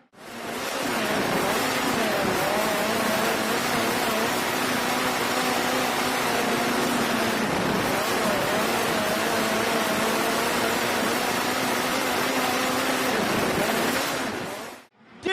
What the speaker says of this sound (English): This is quality speed car action.